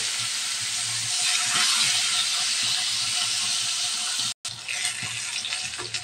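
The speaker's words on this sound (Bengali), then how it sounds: "তেলটা গরম হয়ে গেছে, এখন মাছ দিয়ে দেব।" Koi fish go into hot oil to fry, giving a loud, close, continuous sizzling hiss with small crackles that cuts out for a split second before resuming.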